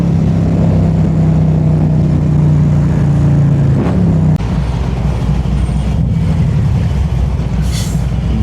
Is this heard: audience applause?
no